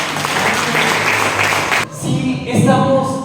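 An audience in a church breaks into loud applause that lasts for a couple of seconds, then drops away into quieter room sound.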